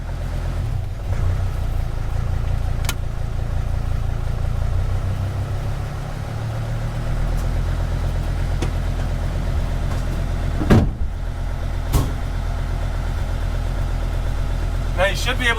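A 2004-2006 Sprinter van diesel engine idles with a steady low, even rumble under someone speaking, with a few brief clicks and taps over it.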